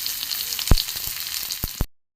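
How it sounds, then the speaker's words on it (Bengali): Chopped garlic and onion frying in mustard oil in a kadai, a steady close sizzle with a few sharp pops and spatters, ending abruptly in silence. "এখানে রসুন পেঁয়াজ ভাজা হয়ে গেছে"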